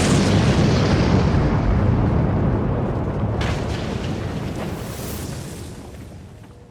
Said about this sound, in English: An explosion rocked the car as the building went up in flames.